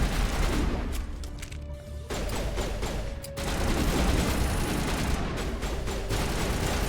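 Dense, sustained automatic weapon fire from turrets in the Mass Effect video game, a loud continuous burst of rapid shots filling the whole stretch with only a brief dip partway through.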